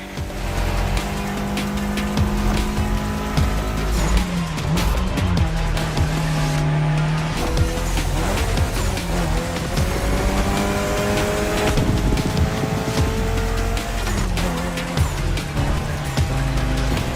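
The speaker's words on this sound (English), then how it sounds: "especially your new ride, Toji's Mitsubishi Lancer Evo X" A Mitsubishi Lancer Evo X driven hard in the racing game The Crew Motorfest, the engine revving and shifting continuously while tires squeal, loud and close throughout with no talking.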